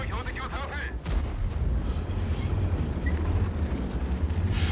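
Tank cannon fire in the World of Tanks video game: a sharp blast followed by a heavy rumbling boom under continuous low battle noise, with a player's voice talking over it.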